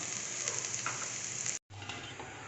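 Flattened rice poha with peanuts sizzles steadily in a hot pan, a close, even frying hiss with soft crackles, briefly cut off by a moment of silence before resuming.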